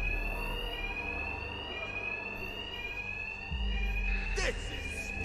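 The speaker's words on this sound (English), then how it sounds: "Two-Face's thugs won't hear me over the alarm." An alarm rings continuously in Batman: Arkham Knight, a steady loud electronic tone filling the scene with low rumbling game ambience and a brief whooshing sweep near the end.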